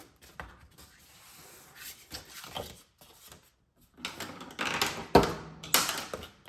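Paper craft pieces for an autumn forest writing folder being scored and folded by hand, with soft crinkling, creasing and tapping rustles that come in bursts and grow busier and louder toward the end, with no talking.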